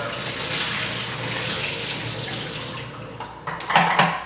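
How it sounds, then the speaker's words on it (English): Warm rinse water is dumped out of a film developing tank during home color film processing: a steady, fairly loud pour for about three seconds, then it trails off into a few light clatters and splashes. "we're going to dump out all this warm water"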